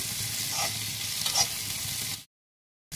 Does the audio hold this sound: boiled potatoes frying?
yes